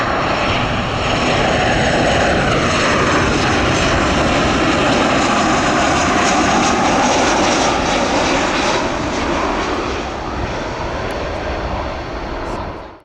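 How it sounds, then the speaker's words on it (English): Older United Boeing 737 jet airliner at O'Hare airport, a loud, sustained engine roar passing close by that stays strong and then tapers off near the end. "It was followed by another Boeing United 737, but this is a slightly older and slightly smaller one."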